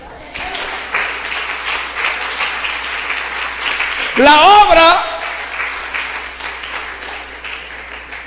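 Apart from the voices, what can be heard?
applause from a church congregation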